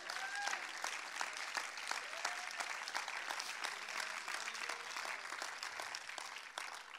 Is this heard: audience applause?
yes